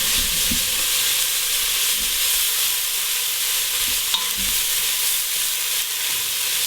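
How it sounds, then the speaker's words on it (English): Soaked beans are stirred into hot fat in a pot for kitchari, making a loud, even frying hiss with occasional scraping bumps from the spoon; no voices. "I go ahead and add these beans in there that have been soaking. And I get them really well coated."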